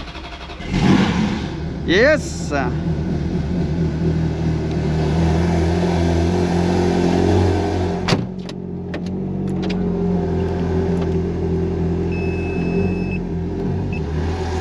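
Ferrari engine cranked with its exhaust valve closed, catching with a rising bark, then a couple of throttle blips before settling into a deep, steady idle rumble up close, with a short shout at the start.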